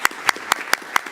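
Audience clapping at a school district board meeting for State Representative Mando Martinez: a few sparse, evenly spaced claps close by, about five sharp hits in a second.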